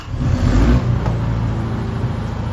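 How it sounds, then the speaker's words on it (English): The generator on a Graco E20 Reactor 3 Pro spray foam trailer runs with a loud, close, steady engine drone and a deep low rumble that barely changes. "Now our generator just kicked on"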